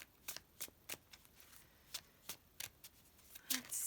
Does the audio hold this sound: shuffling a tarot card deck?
yes